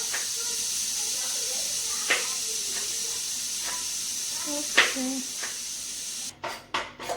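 Steam hisses steadily from a pressure cooker being vented after cooking beef, a constant loud hiss with faint clinks and a few spoken words over it before it sputters and cuts off at the end.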